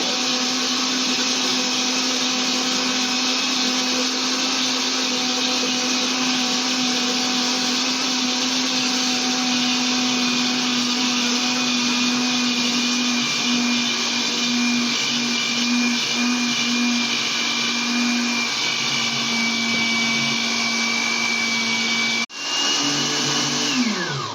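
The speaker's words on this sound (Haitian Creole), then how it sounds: "Moi, je vais blender." Electric blender whirring without a break as it emulsifies homemade mayonnaise, a loud, even motor drone with a slight pitch shift near the end, no voices.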